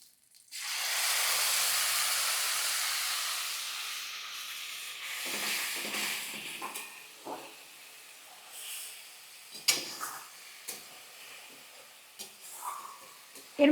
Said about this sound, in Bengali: যেই তেলটা গরম হয়ে যাবে অমনি আমি এর মধ্যে মশলাটা দিয়ে দেবো